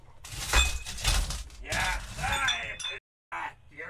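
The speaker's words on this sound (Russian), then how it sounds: "Сейчас опять стекло разобью, может, услышишь?" Glass sheets smashed by hand in a prank-call setting, giving several loud crashing, shattering bursts in the first second or so, followed by scattered clinks, with a voice audible.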